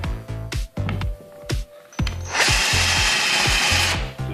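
A cordless screwdriver with a depth limiter drives countersunk screws into a floor, giving several short close whirring bursts and then a longer, louder sustained run.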